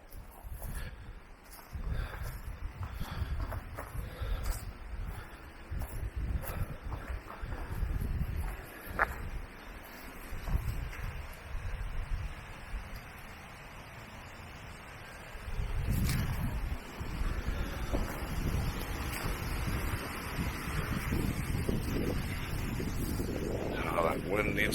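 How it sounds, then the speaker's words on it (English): Strong wind buffets a microphone outdoors in open countryside during a camping trip, a continuous low roaring rumble with gusty surges, loud and steady, with a person talking over it at times. "Wind needs to go away."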